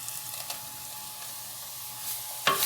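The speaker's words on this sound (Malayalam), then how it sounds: "തേങ്ങായും മസാല എല്ലാം കൂടെ നന്നായിട്ടൊന്ന് ഇതിൻ്റെ ഒരു പച്ചപ്പ് മാറാൻ വേണ്ടി ഒന്ന് ഫ്രൈ ചെയ്തെടുക്കാം" Grated coconut and a crushed spice mix of chillies, small onions, cumin and garlic sizzle gently in a pan for a jackfruit dish, with soft steady frying hiss and a few scraping stirs, one louder clatter near the end.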